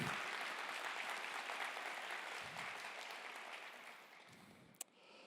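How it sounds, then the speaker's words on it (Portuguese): A church congregation applauds steadily, the clapping dense and sustained, then slowly thinning out toward the end. "Pode aplaudir Jesus, gente."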